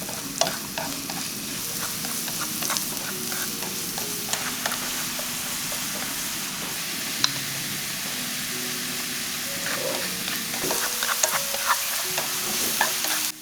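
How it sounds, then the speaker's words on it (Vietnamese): Lemongrass sizzles and crackles in about five tablespoons of hot cooking oil in a small pan on the stove, a steady close frying hiss with scattered pops and occasional stirring scrapes. "Dầu nóng thì mình cho sả vào phi thơm."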